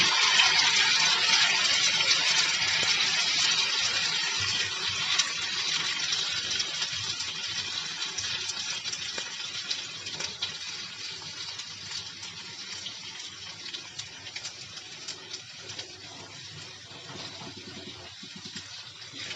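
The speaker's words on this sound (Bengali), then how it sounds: "আমরা যে সসটা রেডি করে রেখেছিলাম, এই সসটা পুরোটা এখানে দিয়ে দিব।" White sauce poured from a bowl into cooked pasta in a pan makes a steady, close, gushing liquid rush. It is loudest at the start and eases off gradually over about twenty seconds, with no talking.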